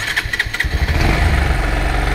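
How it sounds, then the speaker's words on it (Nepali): A motorcycle, just repaired for starting trouble and a low idle, turns over with a few quick cranking pulses, then catches and settles into a loud, close, steady idle. "हामीले बाइक स्टार्ट गर्छम"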